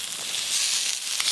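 Spices and tomato frying in a pan for a spicy pangas fish curry, a steady close hiss of sizzling oil with a brief louder crackle near the end, no voices.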